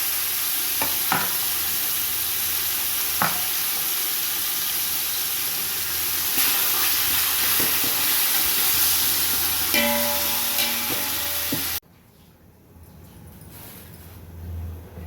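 Steady loud sizzling and hissing of chicken curry for dum biryani frying in a hot pot, with occasional stirring clinks, then an abrupt drop to quiet.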